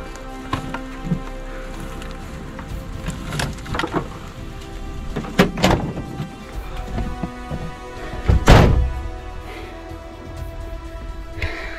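Rain falls outside a 1977 GMC Vandura van, heard from inside as scattered taps and drips over a low background, with several louder thumps and knocks close by.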